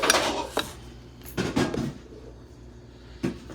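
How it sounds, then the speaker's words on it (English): A knife clatters in a kitchen with a few sharp metallic knocks, loud at the start and again briefly near the end, with quieter handling sounds between them. "Ooh, that was a knife."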